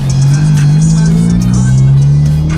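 A Honda Civic Si's exhaust drones low and steady from inside the cabin while driving, a constant rumbling hum with no talk.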